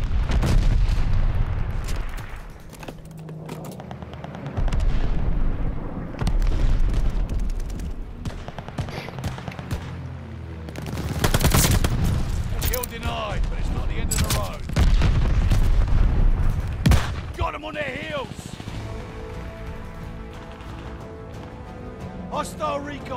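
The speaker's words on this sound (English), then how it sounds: "Friendly bombing run inbound." Explosions from a bombing run in a shooter video game: deep booms and bursts of gunfire arrive in waves, loud and rumbling, with game voice announcements in between.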